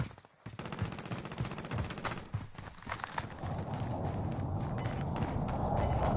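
Rapid bursts of gunfire in a multiplayer shooter video game, sharp repeated cracks in quick rhythm, some close and loud, others sustained over a dense rumbling battle background.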